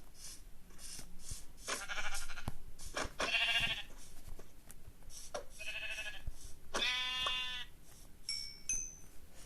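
Several short Minecraft sheep bleats sound in bursts over a quiet, slightly noisy background, with brief electronic chimes near the end.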